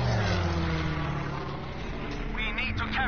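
Propeller aircraft engine droning steadily in the Battlefield video game, a loud continuous low hum with someone talking excitedly over it throughout.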